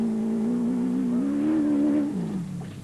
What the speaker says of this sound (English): That big Porter PR1 was humming along